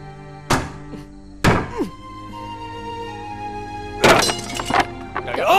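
Firewood is split with sharp, heavy thunks landing at irregular intervals, followed by a burst of cracking and clattering pieces, close and loud over a steady background hum, with brief bits of voice between strikes.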